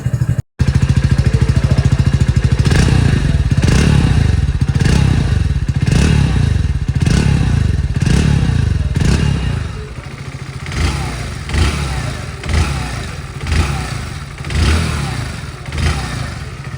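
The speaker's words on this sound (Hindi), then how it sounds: "अब आपको इस E85 वाले इंजन का साउंड और एग्जॉस्ट आपको सुना देता हूँ।" Hero Splendor Plus E85 motorcycle with its engine and exhaust running loud and close, a steady thumping beat from a brief start through a rhythmic idle, easing slightly in the second half.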